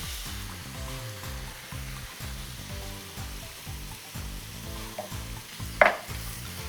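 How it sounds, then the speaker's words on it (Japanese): Red wine hits a hot pan of meat sauce, a close sizzle and hiss with a brief sharp burst near the end, beneath a faint rhythmic background pattern and no talk. "でここに赤ワイン入れていきます。"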